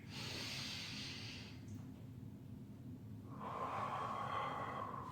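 A slow, soft breath is drawn in and let out during an easy full-body stretch, a faint airy hiss close up with no talking.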